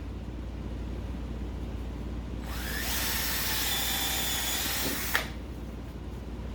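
A power drill whirs steadily for a few seconds against a low background hum, then stops with a brief click.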